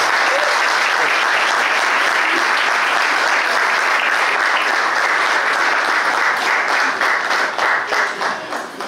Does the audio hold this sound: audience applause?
yes